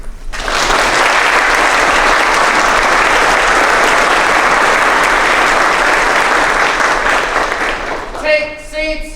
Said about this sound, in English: Can you please join me in a round of applause for Congressman Michael Waltz